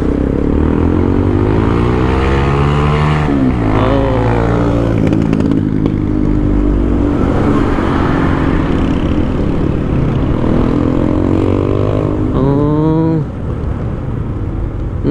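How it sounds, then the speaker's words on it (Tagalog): Road traffic on a street under construction in Botolan, with motorcycles and cars rumbling past continuously, engines rising and falling as vehicles go by, loud and close throughout. "Traffic dito."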